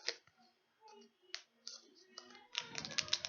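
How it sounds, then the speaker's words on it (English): Scissors snip open Pokemon card packs, giving close, sharp clicks and crinkly cuts of foil wrapping in short bursts, with soft handling noise between them. "I'm just gonna cut these open."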